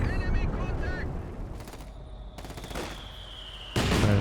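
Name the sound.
machine gun fire in the video game Company of Heroes 2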